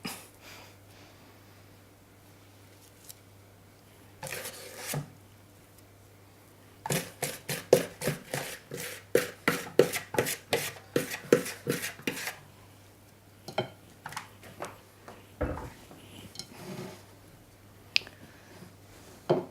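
A spoon stirs butter, sugar and flour together in a bowl for cinnamon biscuits, making quiet scattered taps that become a quick rhythmic run of clicks and scrapes, then fade back to sparse taps with no voices.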